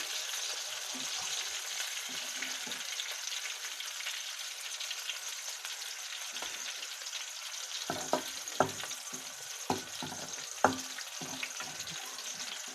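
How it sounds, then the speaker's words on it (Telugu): Ingredients for coriander tomato chutney frying in a pan, a faint, even crackling hiss throughout, joined later by a handful of light stirring taps. "చూసారుగా ఆ రకంగా చక్కగా వేపేసుకోవాలి"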